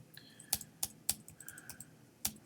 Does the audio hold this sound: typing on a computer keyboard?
yes